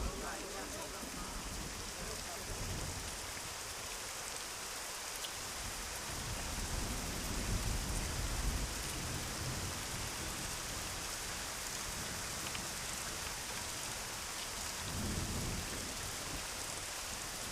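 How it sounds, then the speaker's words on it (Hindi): Heavy rain pours steadily with a constant hiss, and low rumbles of thunder swell and fade several times beneath the downpour, heard from a fair distance. "चल बारिश हो रही है"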